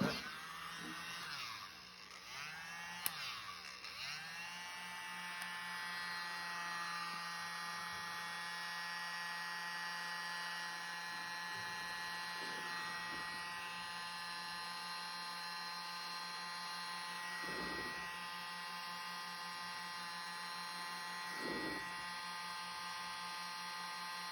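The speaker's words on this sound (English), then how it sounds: "Use my mini blower." A small mini blower hums steadily and faintly for the whole stretch while pushing acrylic paint in a pouring bloom technique, a constant high electric whir with a few soft bumps and shifts early on.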